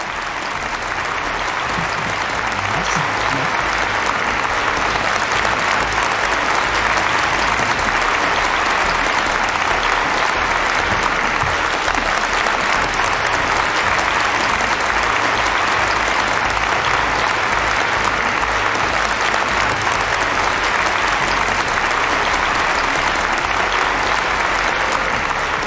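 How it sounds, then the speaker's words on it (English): A large audience applauds steadily and loudly, sustained clapping filling the whole stretch without letting up. "with a big round of applause"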